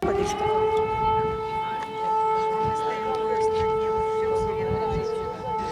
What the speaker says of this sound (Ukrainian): Нестерпний гул сирени, загроза балістичного обстрілу під вже звичну повітряну тривогу